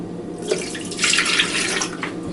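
Coconut milk pours steadily from a container into a cup, a soft liquid splash and trickle rising midway and continuing close by, with no talking.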